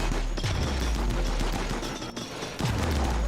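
Raiders in the colony game RimWorld fire at defensive turrets, producing a steady, dense rattle of overlapping gunshots with a few heavier low thumps at moments, loud and continuous throughout.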